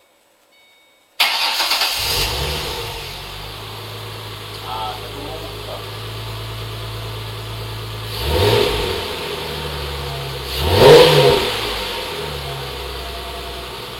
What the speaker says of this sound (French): on va démarrer la bête. On va écouter chanter ce gros V6.